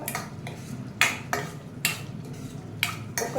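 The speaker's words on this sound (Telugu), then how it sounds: "సో ఇవన్నీ వేసాక కొంచెం బాగా కలపడం" Prawns with pepper powder and cumin powder being stirred in a pan, a spoon scraping in several distinct swipes over a low background hiss.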